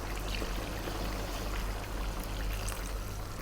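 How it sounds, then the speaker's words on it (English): A steady stream of water pours continuously into a cooking pot of lamb curry, a constant rushing splash with no pauses and no talking. "Now what we're going to do is we're going to add some more water."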